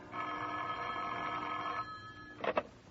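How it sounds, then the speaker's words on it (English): An old-style telephone bell rings steadily in a 1950 radio detective drama, a sustained metallic trill lasting nearly two seconds, then a pause and two short bursts as the handset is picked up. "The phone call came at 9:30."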